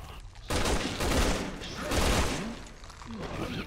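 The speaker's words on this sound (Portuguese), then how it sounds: "Ah, eu tô dando tiro de 12" Loud, dense shotgun fire in the Resident Evil 6 video game, several heavy blasts and explosions merging into a sustained roar with brief quieter gaps, close and dominant.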